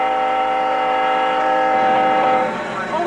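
A freight train rolling through the industrial Midwest heartland makes a steady loud rumble with a sustained horn-like tonal drone, close and continuous, fading slightly at the end.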